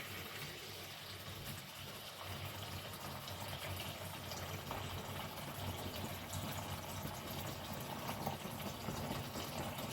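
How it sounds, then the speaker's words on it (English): Warm tap water runs steadily for washing a vintage Crolly doll's hair, a continuous faint splashing flow with no talking. "So we need some nice warm water again."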